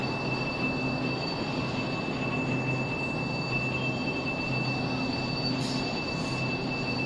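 A high-speed bullet train in Laos pulls out of a station, a steady close rumble of wheels on rails with thin high whines running through it, and no voices.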